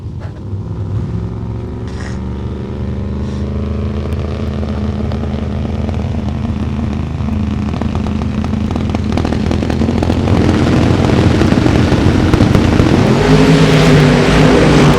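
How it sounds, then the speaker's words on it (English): Turbocharged Cavalier drag car at a drag race in Topeka, engine droning loud and steady as the turbos spool up, the roar building and rising in pitch toward the end as it creeps into the beams. "You'll hear him start to spool up the turbos on that car as he creeps it into the beams."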